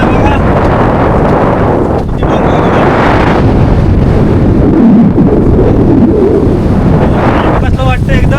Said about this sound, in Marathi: बाहेर वारा सुटला बघा.